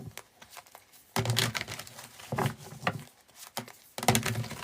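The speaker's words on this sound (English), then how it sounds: "Quick shuffle." Oracle cards get a quick shuffle, giving several short bursts of crisp rustling and flapping card noise separated by brief pauses, close and fairly quiet, with no talk.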